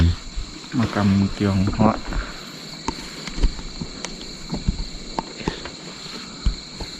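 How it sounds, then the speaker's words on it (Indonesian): Crickets chirp steadily at night in a quiet Chinese cemetery in the Santiong area. Someone speaks briefly at the start over the insect chorus, and footsteps and small knocks sound near by. "Di sini sangat sunyi, Karena jauh dari pemukiman. hanya ada suara jangkrik ya."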